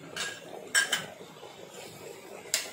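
A spoon clinks against a metal pot while sambar powder is stirred in for sambar rice (bisi bele bath); a few sharp scrapes and taps spaced out over quiet background.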